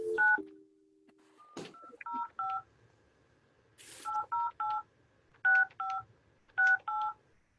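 Telephone keypad dialing during a Phenix City council meeting: a string of short, clear two-tone beeps in quick groups, with a steady low hum and a brief hiss burst between them, no talk over it.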